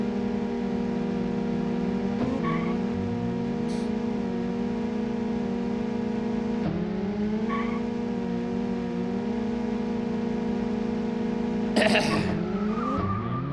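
A car in a 1993 retro racing video game skids across track hazards, with a steady engine drone broken by several short tire squeals and a sharper skid near the end.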